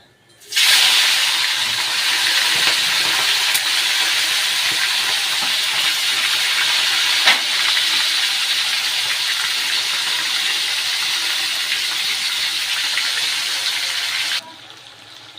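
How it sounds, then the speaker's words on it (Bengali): Shrimp drop into hot oil in a wok and fry with a loud, steady hiss that starts abruptly, holds evenly for about fourteen seconds with faint clicks, then cuts off. "এখানে তো মাছ ভাজা হচ্ছে"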